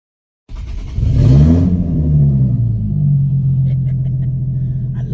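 A Nissan 370Z fitted with a Greddy exhaust fires up after near silence, then settles into a loud, deep, throaty idle with a brief rev flare just after the start, close by and with no talk over it.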